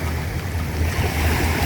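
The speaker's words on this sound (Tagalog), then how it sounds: "dito tayo ngayon sa tabi ng dagat" Sea waves wash steadily against the shore, a continuous broad roar of surf with some wind rumble and no pauses or speech.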